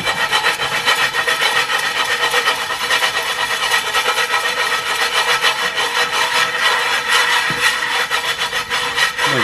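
Stiff bristle brush scrubbing a cast iron pan, a steady, loud, continuous rasping rub with dense repeated strokes throughout, close up and without speech.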